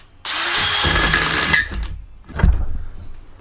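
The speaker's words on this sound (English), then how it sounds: "while you've still got the 13mm drill bit in, mark the centre" A power drill with a 13mm bit whines loudly for over a second, cuts out, then a short clunk and brief buzz follow; no one speaks.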